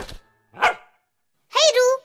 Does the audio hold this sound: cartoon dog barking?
yes